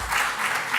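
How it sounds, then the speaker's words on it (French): Audience clapping for a speaker at an annual conference, a brief, dense burst of applause from a crowd. "On peut l'applaudir, le professeur Lelaurin."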